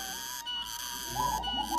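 Soft, low cooing notes from a zebra dove (perkutut), a short rolling phrase near the end over a steady background hum.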